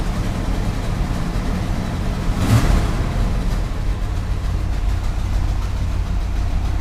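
A 1981 Chevy C30 dually truck engine runs at a steady low idle, a continuous deep rumble with an exhaust leak, holding an even level with one brief rise partway through.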